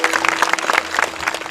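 An audience at a kirtan festival evening in Karanjgavhan, Malegaon, breaks into loud, dense applause, with many hands clapping together in a steady wash that fills the room and never lets up.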